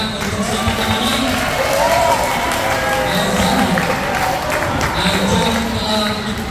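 A classroom of students claps together in steady, continuous applause that lasts several seconds at a fairly loud level.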